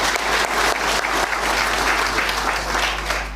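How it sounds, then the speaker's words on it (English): Dense, sustained applause from an audience at an official handover ceremony between Kenyan cabinet secretaries, loud and continuous for a few seconds with no speech over it. "I think we can give a clap for all of you."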